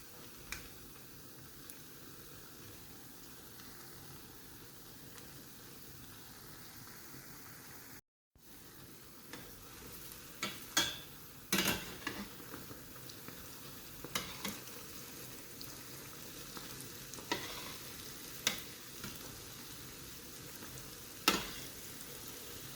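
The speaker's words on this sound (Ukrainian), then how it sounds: "Накладаю по 6 пампухів і до такого світло-коричного кольору смажую." Continuous soft sizzling of six Ukrainian pampushky doughnuts frying in hot oil, with occasional sharper pops and crackles rising above the steady hiss.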